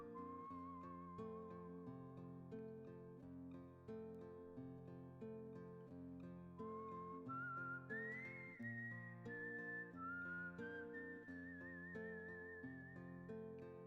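Melodic whistling from the Wild Arms video game soundtrack, a sustained whistled tune gliding between notes over a steady instrumental backing, loud and continuous throughout with no talking.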